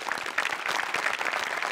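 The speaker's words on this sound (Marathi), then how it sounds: "एकदा टाळ्या वाजवल्या पाहिजेत" Studio audience of a Marathi comedy show clapping, a dense steady burst of applause throughout, no speech over it.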